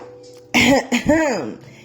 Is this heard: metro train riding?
no